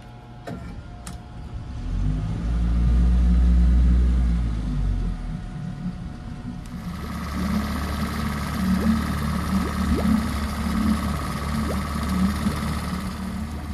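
Outboard kicker motor on a 2008 Campion 682 Sport boat starts up and runs at a low, steady idle, with a louder surge early on before settling into an even drone.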